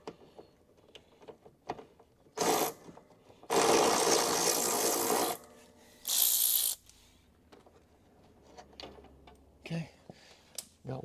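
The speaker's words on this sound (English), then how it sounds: "the electric ratchet to quickly liberate the bolts from the car" Electric ratchet spinning bolts off a car during a Crew Cab Charger restoration, in several loud bursts of whirring: two short runs, one longer sustained run, then another short burst, with quieter clicks and handling noises between.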